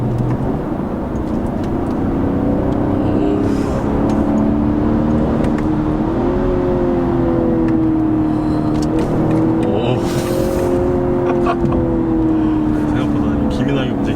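A BMW 540i xDrive LCI with its inline-six pulls hard under acceleration, a strong, smooth engine note climbing and holding steady for a long run, heard close from inside the car.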